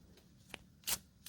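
Brief riffle bursts of playing cards being shuffled, a soft flick then a louder crisp flutter, close up with no talking.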